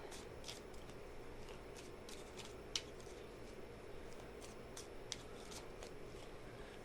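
Tarot cards are shuffled softly in a quiet room, with a run of faint, rapid riffling clicks and flicks spread across several seconds over a low background hiss.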